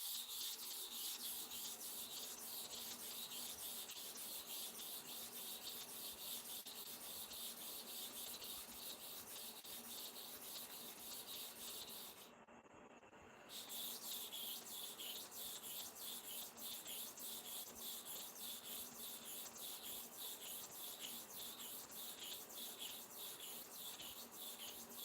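A barber's blade is rubbed steadily back and forth for sharpening, a faint, even scraping rasp that continues with a short pause midway.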